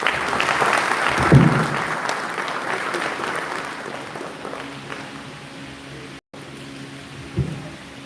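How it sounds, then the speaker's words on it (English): Audience applause at the closing ceremony of the agricultural census in the Gambia, a sustained roomful of clapping that swells briefly then gradually thins, with a faint voice and a burst of noise near the end. "I want you to give another round of applause to the Honorable Minister, please"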